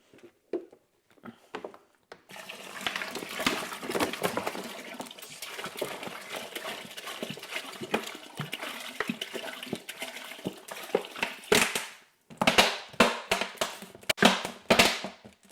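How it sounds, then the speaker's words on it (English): Fifteen litres of water gushes steadily into a rhubarb wine brewing container for about ten seconds, with a few sloshing bursts afterward; close and fairly loud, no talking. "I'm going to put in 15 litres of water."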